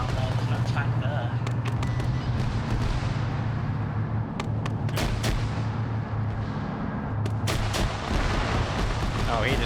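Grenade machine gun fire booms through a military shooter game, dense heavy thumps and blasts layered over a constant rumble, with voices talking over the combat.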